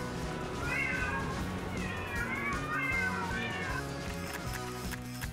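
Cats meow repeatedly and clearly, a close series of drawn-out cries alone with no talk.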